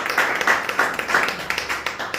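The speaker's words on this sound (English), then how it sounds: "we want to give them a round of applause." Scattered clapping from a small audience at an oxygen concentrator handover ceremony at Princess Margaret Hospital, moderately faint and uneven, with soft murmuring in the room.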